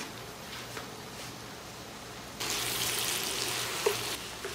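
Thinly sliced bacon sizzles in a pan over moderate heat, a soft steady crackle that grows into a louder, brighter frying hiss partway through, with small pops and the scrape of stirring.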